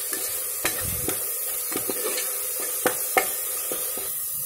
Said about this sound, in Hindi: हमें इसे लगातार चलाना है ताकि ये नीचे तरह ना जले। हमें इसे अच्छे से भून लेना है।